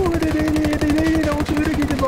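Heavy machine gun fire from a helicopter in Ghost Recon Wildlands rattles in a fast, steady stream, loud and close, with a rotor-like drone running beneath it.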